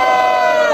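Crowd cheering and shouting at a Brazilian freestyle rap battle semifinal, a loud, dense roar of voices sustained without break.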